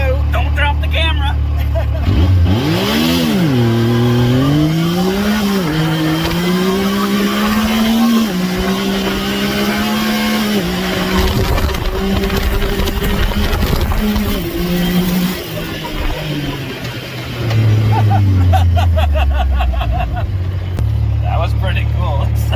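A 2017 Yamaha YXZ1000R SS side-by-side launching with launch control, its engine revving loudly and rising through several sharp gear changes before easing off, then surging again near the end, with voices faintly in the background.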